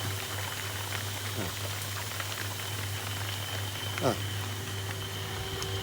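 An automatic plant watering system runs, a steady wash of running, spraying water hissing continuously over a low mechanical hum, with a faint voice underneath.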